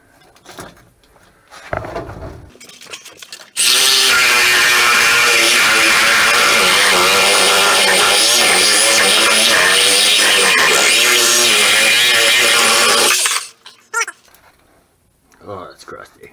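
A reciprocating saw cuts into the body of a 1964 VW Bug, a loud, harsh buzzing roar lasting about ten seconds, with quieter workshop handling sounds and a few clunks before and after.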